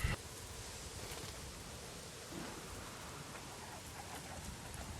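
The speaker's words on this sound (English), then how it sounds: "as it has been raining now for the past hour in the game." Rainstorm in the PS4 game Days Gone, heard as a constant, even hiss of heavy rain pouring down, steady and enveloping from start to finish.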